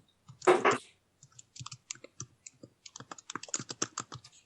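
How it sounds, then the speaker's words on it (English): Someone typing loudly on a computer keyboard nearby, a burst of rapid key clicks followed by scattered then quicker irregular keystrokes, crisp and alone. "There's somebody typing very loudly."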